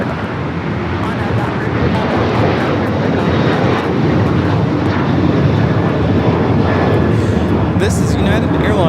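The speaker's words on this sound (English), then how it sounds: "This is United Airlines 277 taking off to Houston Intercontinental on the 737-900 ER" A United Airlines Boeing 737-900ER roars loudly and steadily on takeoff at LAX, bound for Houston Intercontinental, its engines a constant broadband rush for the whole stretch, with a voice talking over it.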